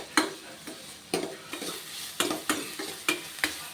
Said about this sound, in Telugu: దీని బ్రౌన్ కలర్ వచ్చే వరకు ఉల్లిపాయని బాగా ఫ్రై చేసుకోవాలి